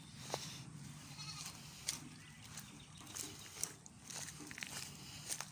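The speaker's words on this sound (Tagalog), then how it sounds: "Ito yung goat house." Goats bleat intermittently nearby, with several sharp calls spread over the stretch, alongside shuffling and a few clicks of movement.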